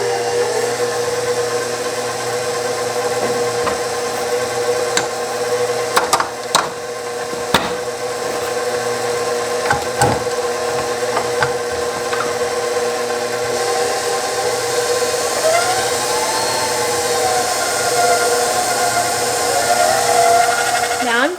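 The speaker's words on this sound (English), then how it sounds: "I'm going to get them in the mixers and get them mixing" Electric mixers run steadily while whipping bath bomb ingredients with 91% alcohol for heart-shaped coconut milk bath bombs, a continuous close whirring drone with brief clunks and knocks throughout.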